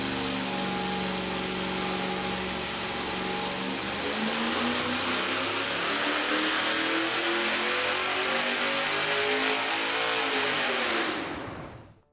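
Racing V8 engine on a dyno, fired up and revved with small headers fitted: a loud, steady mechanical roar climbing in pitch for about eleven seconds, then cutting off abruptly.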